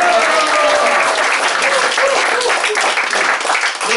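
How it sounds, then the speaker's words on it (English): An audience at a health company home meeting claps loudly and steadily, a dense wash of hand claps with a few voices mixed in, sustained the whole time. "Go ahead and give him a hand clap."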